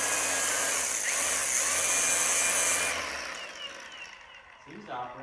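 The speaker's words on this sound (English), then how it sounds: "now we're gonna start grinding again" A grinder whines steadily against metal on a race car for about three seconds and then winds down, with a voice talking nearby.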